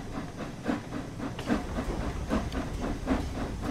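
Steam locomotive in the Train Sim World 4 game, driven with a reverser control, chuffing in a steady rhythm of hissy exhaust beats over a low rumble, close and alone.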